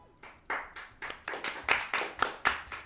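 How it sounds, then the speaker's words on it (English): Steady hand claps, about ten sharp, close slaps in an even rhythm, with no talking. "Don't clap yet."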